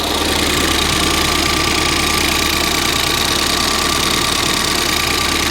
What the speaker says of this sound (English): That clicking's coming from the fuel rail.